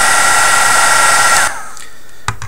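A heat gun or hair-dryer-style blower shrinks heat shrink tubing over an LED lead, a steady loud broadband whoosh with a whine that cuts off about halfway, leaving a quiet room and a small clunk.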